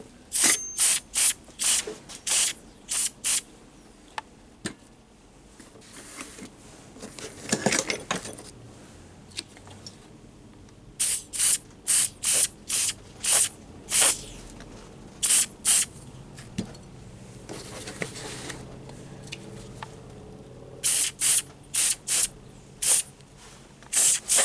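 A Preval Pro Pack sprayer mists orange paint onto a Gravely part in repeated short hissing bursts, clustered in quick trigger pulls with quieter pauses between groups, fairly close and with no voices.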